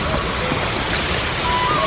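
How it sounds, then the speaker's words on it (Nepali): A waterfall near Kamal Tal roars as a dense, continuous rush of falling water, close and loud, with no break or change through the whole stretch. "झरना चाहिँ ठ्याक्क मेरो अगाडि छ, ठ्याक्क यो साइडनिर झरना छ"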